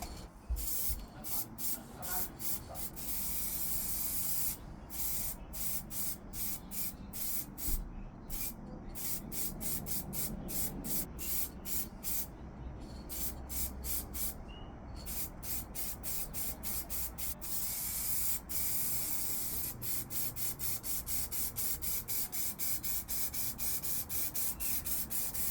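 Black spray paint hisses steadily from an aerosol can onto the wheels of a 1/14 Tamiya Grand Hauler model truck in a shed, a long continuous spray with short pauses and bursts and no one talking.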